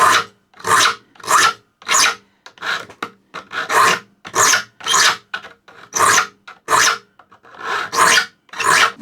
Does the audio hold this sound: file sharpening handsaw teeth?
yes